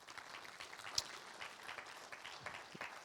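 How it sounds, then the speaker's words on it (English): An audience at a literacy awards ceremony gives another round of applause. The clapping is soft and distant, a steady patter with a single sharper clap near the start. "let's give her another round of applause"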